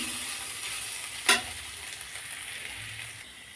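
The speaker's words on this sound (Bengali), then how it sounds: "দেখো আলু ভাজা কমপ্লিট" Potatoes fry in a pan of oil, giving a steady, soft hiss and crackle close by with one brief louder sizzle burst; no one speaks.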